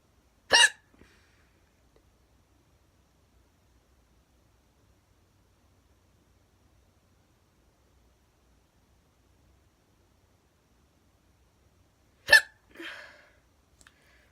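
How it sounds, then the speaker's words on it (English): Two sharp, isolated hiccups from a woman, one near the start and one much later, loud and close against near silence, the second trailing into a faint breathy catch. "It's because I'm like trying not to hiccup."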